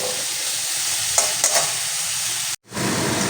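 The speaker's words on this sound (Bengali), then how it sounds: "একটু সর্ষে আর লঙ্কা ফোড়নে দিয়ে আমটা দিয়ে আমি যখন নাড়াচাড়া করছি" Raw mango frying in a pan with mustard seeds and chili sizzles steadily while being stirred, with a couple of soft scraping clinks, before the sound cuts out briefly and resumes, no talk.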